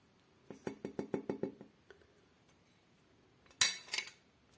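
A utensil clinks against a pot of chicken and green beans in a quick series of about six scrapes and taps, then a brief louder clatter. The sounds are close and the pauses between them are quiet.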